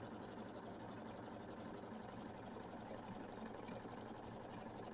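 An embroidery machine tacks down fabric on a Kimberbell mini quilt, giving a faint, steady mechanical whir and rattle that runs evenly without pause.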